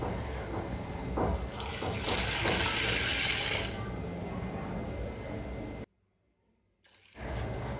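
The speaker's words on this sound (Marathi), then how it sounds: "आता त्यामध्ये दोन ग्लास पाणी घालायचं आहे।" Water is poured from glasses onto washed rajma beans in a vessel, a close, full gushing splash lasting several seconds, then a quieter trickle, a brief silence and a little more handling.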